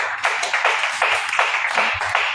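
Church congregation clapping in acclaim of the Lord Jesus during a French-language service, steady rhythmic applause with repeated claps rising and falling across the whole moment, moderately loud and close, with no voices standing out.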